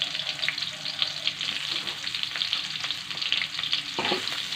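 Noodles with shrimp and green beans stir-fry in a hot wok, a dense steady sizzle broken by scraping stirs and one louder clatter near the end.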